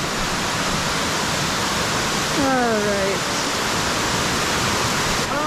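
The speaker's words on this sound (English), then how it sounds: "waterfall." Steady broadband roar of a waterfall on a river during a descent from Mount Roraima, loud and constant throughout, with a brief voice speaking over it midway.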